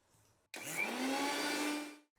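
A kitchen mixer grinder whirs up a paste of coriander, mint, green chilli, ginger and garlic with a little water, starting abruptly after a quiet moment and running as a loud steady whine for about a second and a half before cutting off.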